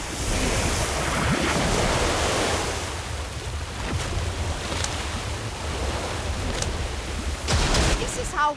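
A water orb spell effect from the video game Harry Potter: Magic Awakened gives a loud, continuous rushing surge like breaking surf that eases slightly midway and swells again at the end.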